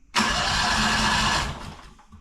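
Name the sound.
antique loader engine starting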